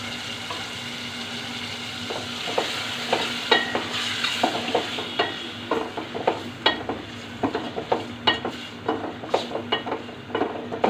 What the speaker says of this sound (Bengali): মাগুর মাছটাকে আমি ভালো করে মশলার সাথে কষিয়ে নিব